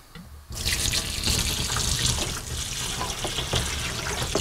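Cold water gushes from a tap opened to full blast during home beer brewing, a sudden loud, steady splashing rush into a sink that continues without pause.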